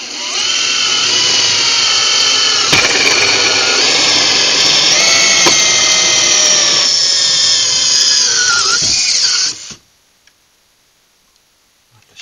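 A sharp power drill bit cuts a mortise into bamboo, whining loudly and steadily with shifting pitch and occasional ticks and knocks for about ten seconds, then stopping abruptly into near silence.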